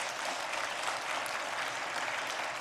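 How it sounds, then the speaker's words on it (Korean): A church congregation at a Sunday service claps in sustained, even applause that fills the room at a steady level from start to finish. "박수 한번 해줘."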